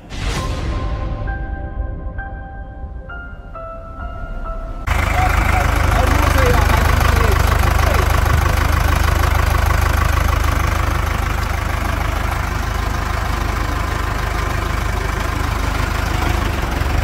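A Ford F-1000 pickup, originally a gasoline truck now fitted with an MWM engine, idles with a loud, steady, close rumble that starts abruptly partway in after a quieter opening with faint ringing tones.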